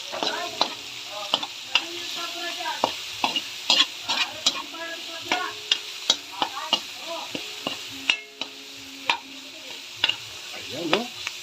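Alamang shrimp paste sautéing in a pan, a soft sizzle under frequent sharp scrapes and taps of a spatula stirring at an uneven rhythm.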